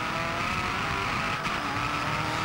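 A race car locks its brakes and the tires skid in a circuit race, heard from on board another car: a steady, loud roar of engine and tire noise with a harsh scrubbing edge all the way through.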